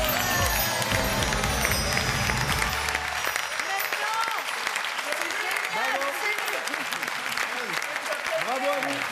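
A quiz-show audience applauds the winner with sustained, dense clapping that runs the whole stretch, while voices and cheers are scattered through it.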